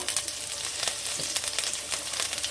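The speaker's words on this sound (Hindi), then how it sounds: "कढ़ाई में 2 टेबल स्पून तेल डालेंगे। तेल गरम हो चुका है।" Cumin seeds and green chilies sizzling hard in hot oil in a kadai over lowered gas, a dense, steady crackling hiss with small pops throughout, close and fairly loud, no voices.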